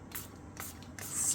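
Three short hissing spray bursts mist onto alcohol inks on a resin coaster, each puff close and soft, with no talking.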